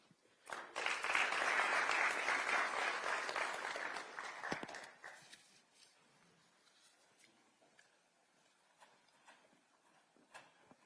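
An audience claps for the President, a burst of applause that starts abruptly, holds for about four seconds, then fades into scattered claps and quiet room noise.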